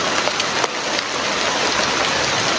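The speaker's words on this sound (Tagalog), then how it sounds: "Lakas lang ngayon kasi umulan." Heavy rain pours steadily, a dense and loud hiss of drops striking surfaces with no break and no voices.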